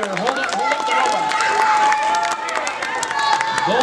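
Audience at the BrickSlopes 2022 LEGO sumo bot show applauding and cheering for the winning robot, a busy burst of clapping and crowd noise under someone talking over a loudspeaker.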